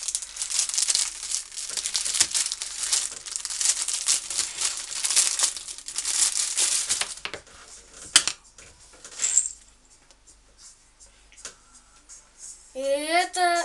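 Parcel packaging being torn open, with continuous loud plastic wrapping crinkling and rustling for several seconds, then quieter handling noises and a brief high voice near the end.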